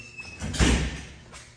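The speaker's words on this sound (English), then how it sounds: "that door slams really loudly" A broken Dover elevator door slams shut with a loud, booming thud and a brief rattle, heard close up inside the car.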